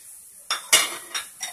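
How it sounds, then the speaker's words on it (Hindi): Peas and potatoes tipped into a pan of browning onions for semolina upma, heard as a few sharp metallic clinks and scrapes of a spoon against cookware, short and separate against near silence. "फिर हम ये मटर डाल देंगे, मटर के दाने डाल देंगे और आलू डाल देंगे"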